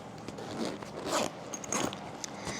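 A side zipper on a makeup bag is pulled open in a few quick, rasping strokes, close and fairly loud, with small rustles between pulls.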